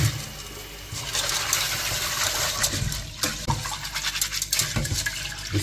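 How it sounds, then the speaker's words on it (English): Dried peas are rinsed and swished by hand in water, giving close sloshing, trickling and rubbing noises with irregular splashes and pauses, moderately loud and without speech. "First I want to rinse off the peas."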